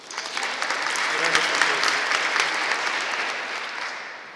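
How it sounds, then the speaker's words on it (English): Sustained, steady clapping from an audience at a book launch, honoring a grant applicant, dense and even for several seconds before tapering slightly. "let's give her a round of applause"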